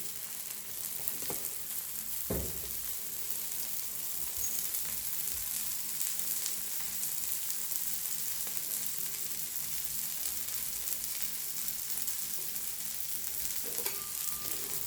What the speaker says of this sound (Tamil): பார்த்திங்களா தோசை எண்ணெய் ஊற்றிக்கலாம்